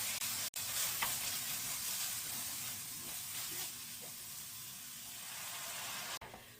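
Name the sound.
stirring braised pollock seasoning sauce with broth in a pan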